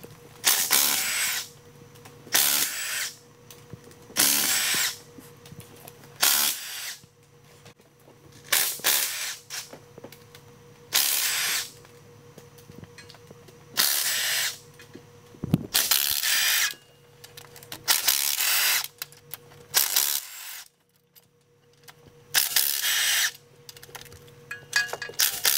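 Power tool loosening cylinder head bolts on a Duramax diesel engine, repeated short loud bursts of ratcheting whir separated by pauses and quieter handling clicks across the whole stretch.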